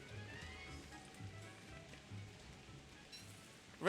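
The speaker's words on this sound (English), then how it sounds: "that's why I don't like rain." Steady rain falling in the survival video game Don't Starve, a soft continuous hiss at even level, with a brief louder burst right at the end.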